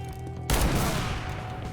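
Assault rifle fire in a first-person shooter video game: after a quiet moment, a sudden loud burst of rapid shots erupts and rolls on with a dense, sustained crackle.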